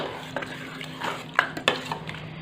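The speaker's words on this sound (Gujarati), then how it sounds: "હલાવી લઈશું" Pav bhaji being stirred in a pan on the stove, with a spoon scraping and clinking against the metal in a few quick irregular strokes over a soft cooking sizzle.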